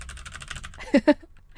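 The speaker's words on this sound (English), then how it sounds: "let's move on to the clicky clack keyboard" Rapid clicks from a clicky mechanical computer keyboard patter close by, followed by a couple of louder clacks and a brief voice.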